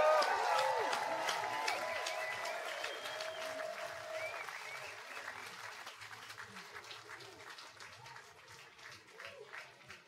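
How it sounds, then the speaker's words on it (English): A festival audience at an outdoor music and dance festival applauds, a dense burst of clapping that starts loud and slowly thins out, with a few voices and cheers mixed in. "One more round of applause for Richie and Rosie."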